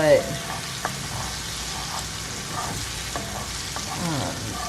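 Butter browning in a pan for creamy seafood mac and cheese gives a steady close sizzle and crackle, with occasional sharper pops and light stirring sounds and no talk.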